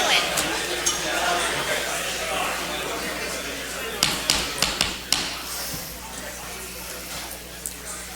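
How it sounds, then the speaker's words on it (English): Gavel knocking to restart a city council meeting, a quick run of four or five sharp raps in the middle, heard among room noise and voices. "it's the guy with the hammer again"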